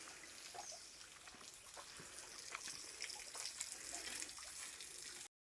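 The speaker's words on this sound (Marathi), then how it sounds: "तुम्हाला दाखवतो थोडं थोडं पाणी पडतंय" A thin trickle of water falls down a cliffside waterfall in the dry summer season, giving a faint, steady splashing hiss with no voices.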